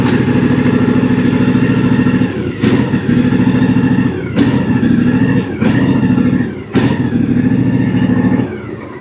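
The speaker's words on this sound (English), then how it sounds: "Once again, as soon as I engage it, the mower tries to die on us." Engine of a Cub Cadet riding mower that dies when the blades engage, running loud and close with a steady throbbing idle broken by several sharp clattering surges and dips, no voices over it.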